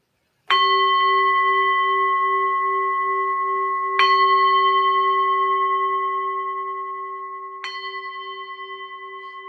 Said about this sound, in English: I will ring the bell. So here comes the bell.